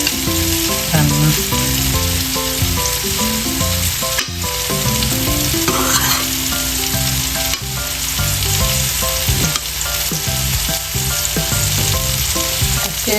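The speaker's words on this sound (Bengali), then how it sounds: "একদম সিম্পলভাবে শাকটা রান্না করছি" Red amaranth greens (lal shak) fry in a pan while being stirred, a steady broadband sizzle running the whole time beneath melodic background music, with occasional scraping from the stirring.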